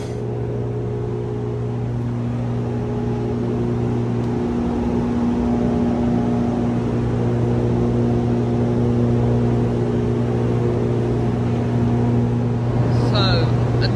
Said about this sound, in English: So another carriage is being brought on to the boat.